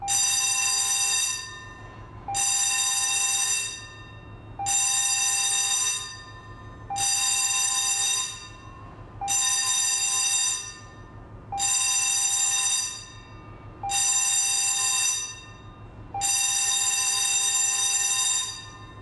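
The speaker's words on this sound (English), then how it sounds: "The first is the general alarm, 7 short tones followed by a long tone, like this." A general alarm aboard the ship Harkand Da Vinci sounds seven short, evenly spaced blaring tones followed by one longer tone, loud and without any voices.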